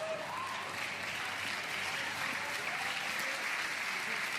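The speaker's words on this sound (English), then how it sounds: "Crowd encouraging J.W." Sustained crowd applause at a pickleball match between Ben Johns and JW Johnson at the Carvana Mesa Arizona Open, a dense even clapping that holds steady throughout with no talk over it.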